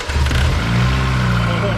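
Opel Omega car engine cranking and catching, a loud, close, steady motor rumble throughout the short stretch with no pause.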